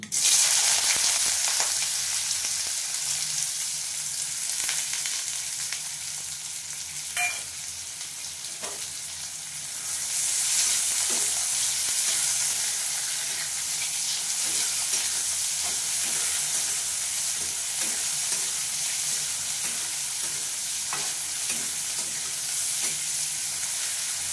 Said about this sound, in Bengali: এই দেখো 3টে পেঁয়াজ কুচিয়ে রাখা আছে, এটা আমি তেল গরম হয়ে গেছে দিয়ে দিচ্ছি